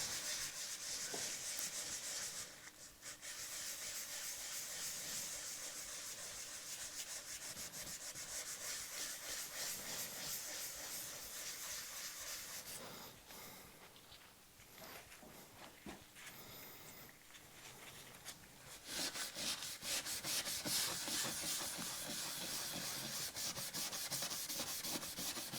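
Steady rubbing and scrubbing of excess grain filler off a guitar body being prepared for nitro lacquer, a continuous close abrasive swish that eases off in the middle and returns stronger toward the end.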